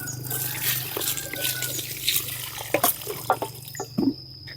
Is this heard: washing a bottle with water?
yes